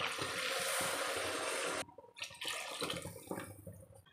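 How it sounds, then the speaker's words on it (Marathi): Water is poured from a glass into a cooking pot for a peanut amti, a loud splashing gush for almost two seconds that gives way to softer clinks and kitchen handling noises. "इथे मी साधारणतः या भांड्यामध्ये 2 ग्लास हे पाणी टाकणार आहे."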